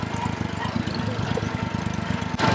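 A motorcycle engine runs at a steady, close idle with a pulsing low thump, from a Royal Enfield Classic or Honda Dio during a road trip near Kulekhani, with a brief louder sound at the very end.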